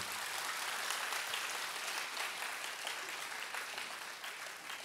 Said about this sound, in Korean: 다시 한 번 더 박수로.